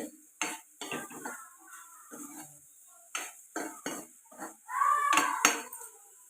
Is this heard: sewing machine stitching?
no